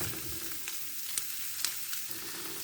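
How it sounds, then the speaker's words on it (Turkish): Diced meat and chopped onions sizzle and fry on a Turkish sac pan for sac kavurma, a steady soft crackle with a few small pops and stirring scrapes. "Bu şekilde sacımın her yerine gelecek şekilde etimi yayarak karıştırıyorum."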